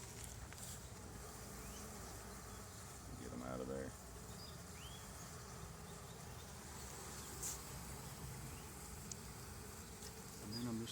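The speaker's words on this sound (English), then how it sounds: "just smoke the bees a little bit." Honey bees buzzing around an open hive during an inspection with a smoker, a steady low drone throughout that swells at moments, with a person speaking briefly.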